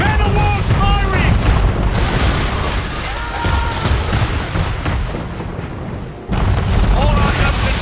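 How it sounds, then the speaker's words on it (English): Cannon fire from a man-of-war during a naval attack in Assassin's Creed III Remastered: loud booming blasts and explosions mixed with battle noise and shouted voices. "We're under attack! Man of war's firing!"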